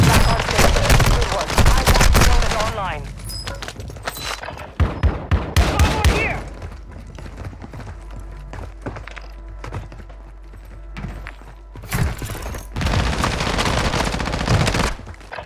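Dense automatic gunfire from the video game Warzone 2: loud rapid bursts and single shots, a quieter stretch with scattered shots in the middle, then heavy firing returns near the end.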